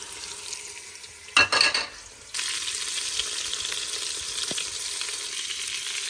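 Italian meatballs cooking in sauce in a pan give off a steady, bright sizzle and bubbling, interrupted early by a brief clatter of a utensil against the pan before the frying hiss resumes evenly.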